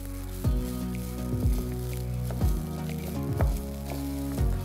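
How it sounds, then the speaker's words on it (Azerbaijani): Rice frying in oil for pilaf sizzles steadily up close, with a stir or scrape roughly once a second adding rhythmic squishing pulses, and no talk. "Düyü birazca qovruldu yağda."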